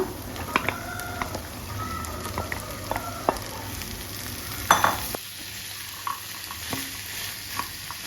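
Oil sizzles steadily while chickpeas are stirred in a kadai, with scattered clinks and scrapes of a spoon against metal.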